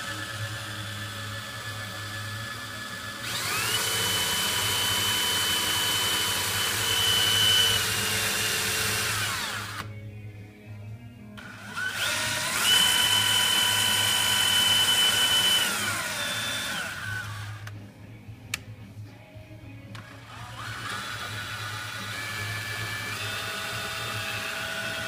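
A high-pitched electric drill whirs steadily in two long bursts with a pause between, driving the gearbox of a Caterpillar 785D haul truck model, joined by a faint mechanical gear whine.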